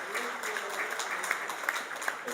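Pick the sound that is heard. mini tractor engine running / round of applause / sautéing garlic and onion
round of applause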